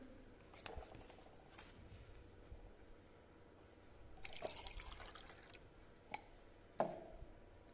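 Water is poured from a calorimeter into a measuring cylinder during a heat-balance lab exercise, giving faint trickles and a few soft drips and splashes in an otherwise quiet room.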